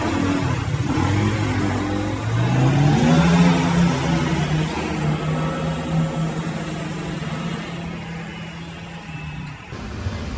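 A Honda Vario 125 scooter engine with stock exhaust and replaced ECU revs up steadily, its drone rising in pitch and then holding, loud and close, before cutting off near the end.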